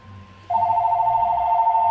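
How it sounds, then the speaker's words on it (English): A phone starts ringing midway, a loud steady electronic ring tone that continues to the end after a quiet lead-in. "Stop ringing your ugly phone."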